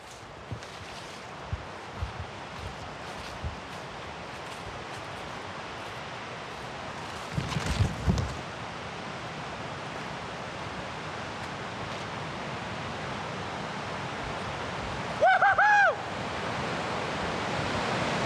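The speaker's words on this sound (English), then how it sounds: "We are on the bridge over the Hikami River." The Hikami River rushes beneath a bridge in a steady, broadband wash of flowing water and wind. A few brief louder bumps and a short chirping sound break the constant hiss.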